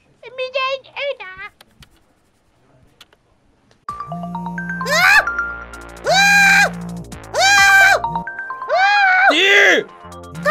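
A mobile phone ringing with a bright melodic ringtone, repeated in several loud bursts after a quiet gap, with a child-like voice speaking briefly before it starts.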